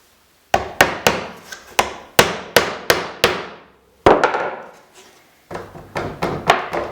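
Small finishing nails are hammered into a wooden cleat while building a PT11 boat, with crisp, close hammer taps in quick rhythmic runs, each ringing briefly before the next, separated by a couple of short pauses.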